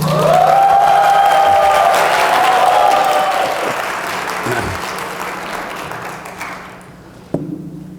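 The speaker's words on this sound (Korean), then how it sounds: "그럼 박수를 쳐야지." Audience applause and light cheering at a winter church camp service greet a speaker, loud and dense at first, then thinning gradually and fading out near the end, with a single sharp tap just after.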